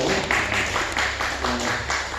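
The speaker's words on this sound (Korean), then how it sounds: "다시 한번 박수 한번 해주시고" A church congregation claps together to welcome newcomers at a Korean Baptist Sunday service, a steady wash of applause with some talk mixed in.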